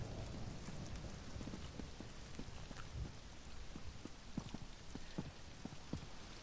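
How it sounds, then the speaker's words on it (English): Steady rain patters in a thunderstorm in The Elder Scrolls Online, a dense constant hiss with scattered drops and low rumbles, no voices. "I just don't trust thunderstorms in this land."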